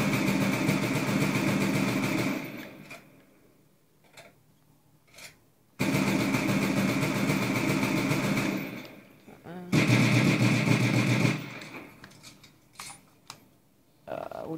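Rapid automatic gunfire from an M14 rifle in a first-person shooter such as Battlefield Bad Company 2 or Call of Duty, fired through a modded rapid-fire PS3 controller, three loud sustained bursts separated by quieter gaps with faint shots.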